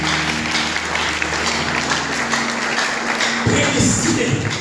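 A church congregation claps in a steady wash of applause, with tonal music or singing sounding underneath.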